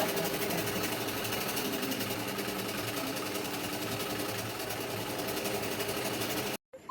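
A sewing machine stitches the sleeve of a kurti in one continuous, even whirring run, close and steady, stopping abruptly just before the end.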